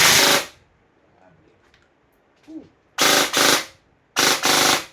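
A G&G Wild Hog airsoft rifle firing full auto, heard as three loud, rapid bursts, a short one at the start and two longer ones near the end, with quiet handling noise in between.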